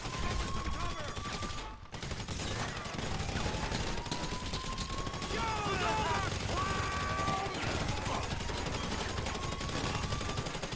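Rapid bursts of SMG gunfire ring out during a Casino Heist mission in GTA 5, mixed with other game sounds and effects, while a player's voice speaks over the action.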